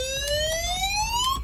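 A car security alarm siren wails in a rising electronic sweep, loud and close, with rapid pulsing tones continuing without a break for the whole short burst.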